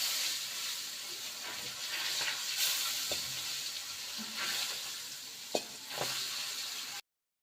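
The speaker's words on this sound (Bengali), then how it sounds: "মাছ ভাজা নিচ্ছি, এই যে বেশি ভাজিনি" Pangas fish pieces frying in hot oil in a home kitchen, a continuous soft sizzle and crackle with a few sharp spatter pops, heard alone without talk until it cuts off.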